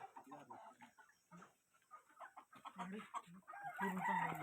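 Chickens in a simple, low-cost poultry shed cluck and call at close range in a busy, continuous stream, with the calls rising toward the end.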